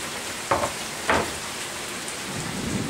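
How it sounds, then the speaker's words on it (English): Heavy rain pours down in a constant hiss, broken early on by two short, sharp cracks of thunder. "And it is just a pouring out there."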